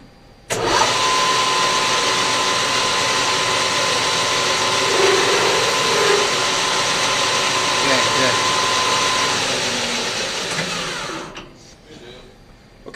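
A drill press motor hums and whines steadily at close range for about ten seconds while touching up a hole in a screwdriver blank, then winds down and stops.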